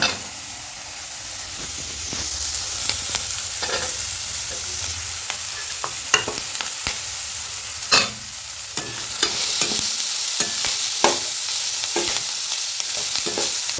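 Green chillies fry in hot oil, giving a loud, steady close sizzle and hiss with intermittent sharper crackles and occasional scrapes of stirring, and no one speaking.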